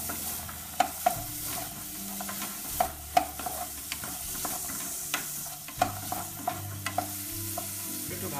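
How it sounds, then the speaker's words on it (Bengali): Vegetables and shrimp frying in a teaspoon of oil in a pan for prawn soup, a steady sizzle broken by about a dozen sharp clinks and scrapes of stirring, close and alone with no voices. "কিছুক্ষণ ভাজি করব।"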